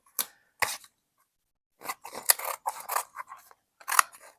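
Scissors snip through a strip of vinyl decal from a 6th-gen Camaro decklid stripe, two crisp cuts followed by a longer run of quick, close cutting and crinkling, with no talk.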